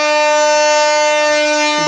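A train departing Bankura station sounds a loud, sustained horn, a steady harmonic tone held close and strong through the whole moment, with no talking.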